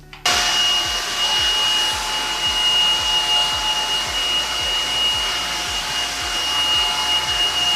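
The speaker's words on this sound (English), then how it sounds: "I'm going to go ahead and do the blow drying part of this" A hair dryer blows steadily on natural hair being dried ahead of a silk press, a loud continuous whoosh with a high whine, starting abruptly and holding close and constant.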